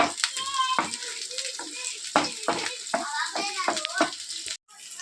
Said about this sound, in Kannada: ಸ್ವಲ್ಪ ಈರುಳ್ಳಿ ಎಲ್ಲ ಚೆನ್ನಾಗಿ ಫ್ರೈ ಆಗಬೇಕು